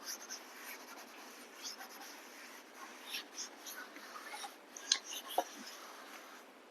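Writing is wiped off a classroom board, giving faint, soft rubbing and brushing strokes in an uneven rhythm over room hiss, with a couple of small sharp taps near the end.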